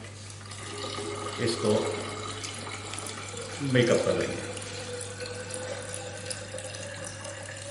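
Water poured into ethanol to make up an herbal sanitizer, in two short splashing pours over a steady background hum, while a person speaks.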